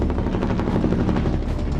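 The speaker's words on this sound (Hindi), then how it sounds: "जिसमें एक हेलीकॉप्टर एक जहाज की तरफ बढ़ता दिखा।" Helicopter approaching a ship at sea in a military operation, with a loud, continuous rotor chop and engine roar filling the short stretch.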